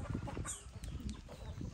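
A hen clucks on a farm where a rooster and chicks are kept, faint and partly lost in steady, noisy outdoor background over a short stretch.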